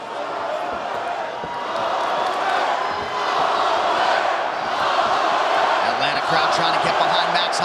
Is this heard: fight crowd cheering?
yes